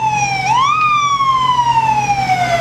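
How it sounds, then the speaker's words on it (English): A 1986 International Type 3 fire engine's siren wails loud and close during a county fair parade, one steady electronic tone that sweeps upward briefly and then slowly falls, with no talking. "And as the sirens continue"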